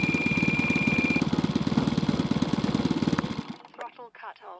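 A Hanger9 J3 Cub RC model plane engine idles close by with a steady, fast-pulsing buzz for about three and a half seconds, then cuts out, leaving a few faint clicks and soft noises.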